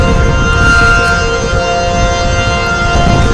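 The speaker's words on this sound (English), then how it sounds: "Sirens are going off." Tornado warning civil defense sirens wail across Amarillo, Texas, a loud sustained tone holding steady throughout with no voices over it.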